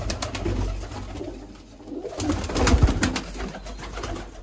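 Sialkoti pigeons cooing in a loft, soft repeated throaty coos rising and falling close by, with no talking.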